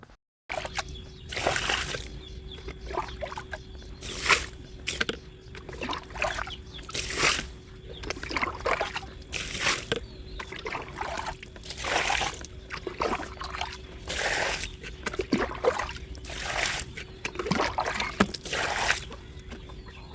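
Water drained from a small pond trickles and splashes steadily for a long stretch, with intermittent louder sloshes and a faint constant hum, while chickens cluck in the background.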